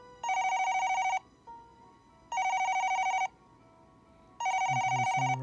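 A telephone ringing in the visual novel game YU-NO, three evenly spaced electronic rings of about a second each, loud and clear, with faint game sounds between them.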